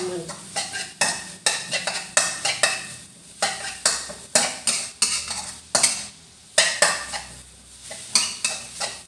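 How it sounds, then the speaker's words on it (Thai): Eggs are stir-fried dry in a metal pan, with rhythmic repeated clanks and scrapes of a spatula against the pan over a low sizzle. "เฮาก็สิคั่วจนมันแห้งพุ่นล่ะค่ะ"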